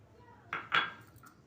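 A spoon scrapes and clinks twice against a container while homemade pickle is spooned onto stuffed eggplant, two short close metallic knocks in quick succession with a faint tap after.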